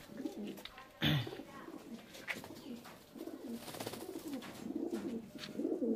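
Pigeons coo in a rooftop loft, soft repeated throaty coos recurring throughout, with a brief thump and rustle near the start and low background sounds.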